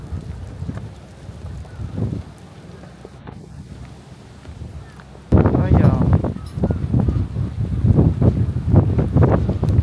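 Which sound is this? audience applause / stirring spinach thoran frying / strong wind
strong wind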